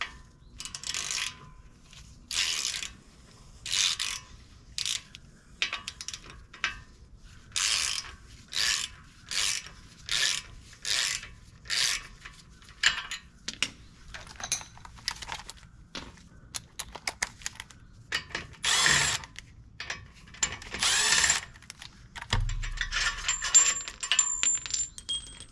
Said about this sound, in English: So first we're just going to start by removing these two Allen bolts.